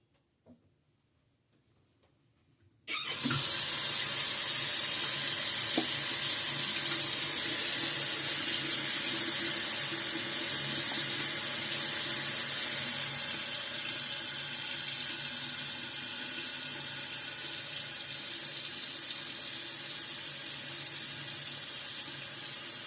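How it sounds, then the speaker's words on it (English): Tap water runs steadily into a shaving bowl and scuttle, starting abruptly after a few seconds of near silence and then pouring as a continuous close hiss. "just filling up my bowl and scuttle."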